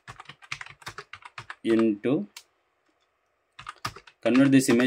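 Quick runs of keystrokes on a computer keyboard tap along in a steady patter, with short pauses between bursts, while a voice speaks over part of it.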